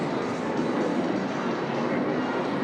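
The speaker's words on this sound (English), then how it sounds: "Look, that plane is loud." Loud airplane taking off near a softball stadium, a broad roaring jet rumble that fills the air evenly and steadily without a break.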